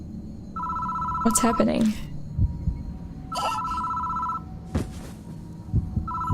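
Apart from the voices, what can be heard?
telephone ringing in the video game Death Mark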